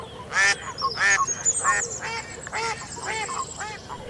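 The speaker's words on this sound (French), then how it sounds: "Dans une mare toute proche, un canard en train de barboter" A duck near a pond quacks repeatedly in a lively series of loud, close, nasal honking calls that come in rapid bursts with no talk.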